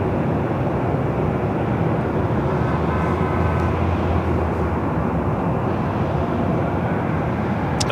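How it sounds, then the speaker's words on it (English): An Airbus A350 takes off from the south side of LAX, a loud, sustained broadband jet roar that stays steady and dense throughout, heard from a distance without talk over it. "A350 taking off there on the south side"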